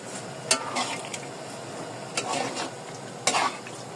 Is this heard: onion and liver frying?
yes